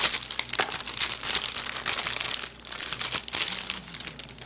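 A plastic package is opened, giving loud, close crinkling and crackling in uneven bursts with short pauses between handling.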